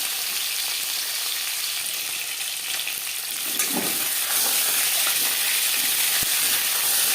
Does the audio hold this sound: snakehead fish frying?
yes